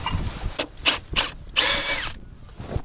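A power drill whirs in several short bursts separated by pauses, close up, with one longer run near the middle.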